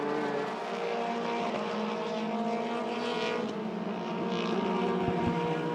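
A Formula 4 race car at speed around a circuit, its engine a steady, droning high-revving whine heading toward turns 12 and 13 at about 180 km/h, fairly distant and continuous, with gear-change shifts in pitch and no talk.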